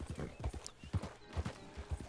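Hooves of a horse in the video game Red Dead Redemption 2 clip-clop in a steady, evenly spaced walking rhythm, fairly close and clear, with no talk over them.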